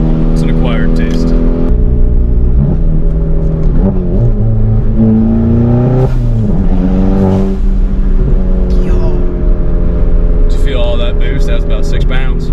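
A tuned 350-horsepower VW MK7 revs hard under boost, its engine note climbing and falling through several loud, close pulls with turbo whistle and whoosh between them, while people talk excitedly over it.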